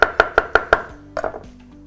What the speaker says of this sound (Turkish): Son kalan mantarımı da doğrayayım.